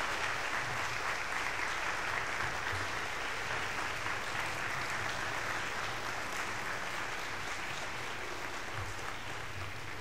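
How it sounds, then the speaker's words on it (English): An audience at an academic convocation claps in sustained, dense applause that fills a large hall, staying at an even level from start to finish with no voices above it. "Let's give her a round of applause."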